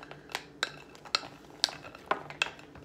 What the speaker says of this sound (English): So I'm just gonna stir them around a little.